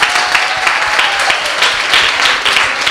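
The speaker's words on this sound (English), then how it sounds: "just clap everybody who was brave enough to come up and ask a question" Audience clapping for people who asked questions at a St. Ann youth chat event, dense continuous applause from many hands, close and loud with no pauses.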